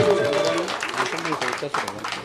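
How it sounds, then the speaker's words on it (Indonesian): An audience at a regency official's visit with village heads in Sorong claps in a short, dense burst, with talk over the clapping throughout. "Tepuk tangan yang meriah dulu."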